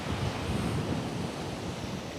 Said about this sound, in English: expect to see waves just like this